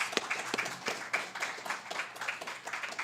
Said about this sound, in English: Could we give her another round of applause?